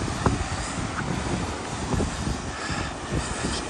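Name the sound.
strong wind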